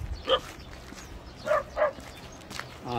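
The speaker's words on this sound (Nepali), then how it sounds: "यहाँ दुईवटा कुकुर यहाँ सुरक्षाको लागि" A few sharp barks from two guard dogs in a South Korean village ring out, two or three separate yaps spaced apart over a low background hum.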